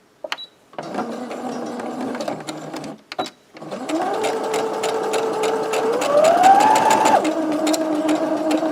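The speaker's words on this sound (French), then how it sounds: "Et là, on coud tout le long." A sewing machine runs in steady bursts as it stitches fabric for a lunch bag, stopping briefly near the start, then running long and loud with a whirring pitch that rises and falls.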